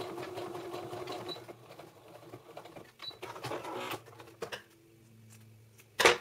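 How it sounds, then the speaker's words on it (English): A sewing machine hems the cut edge of a bath towel, its rapid needle chatter running steadily and close, then slowing to a low motor hum before a final sharp click. "So what I'm gonna do right now is to sew, I hem it this way, so I'll put a seam in here so it won't unravel."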